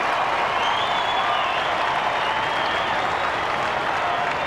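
Stadium crowd at an AFL match between West Coast Eagles and Western Bulldogs roars and applauds after a goal, a dense, sustained wash of cheering and clapping that holds steady and loud throughout.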